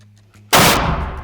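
A single SIG SAUER rifle shot cracks out sharply and very loud after a moment of near silence, its blast ringing and decaying over the following half second.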